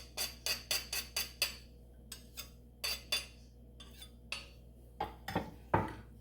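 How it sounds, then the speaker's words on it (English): Metal garlic press crushing garlic cloves in a kitchen, a run of close, sharp clicks and clinks in quick bursts, then a few heavier squeezes and clatters, with no talk. "I squeeze the cloves through the garlic press."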